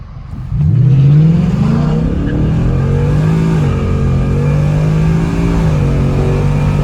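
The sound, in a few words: 2019 Mustang GT with X-pipe revving, spinning its tire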